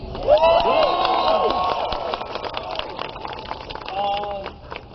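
A large crowd at a political rally cheers and applauds loudly, with a dense wash of clapping and shouting that swells early, then gradually thins out, under raised voices.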